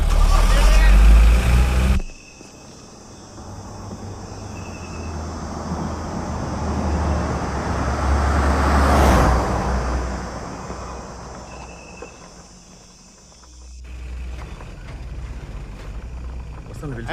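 A vehicle on a road draws near in a movie street scene, its rumble rising to a peak midway and easing off, with a low engine drone and wind noise throughout.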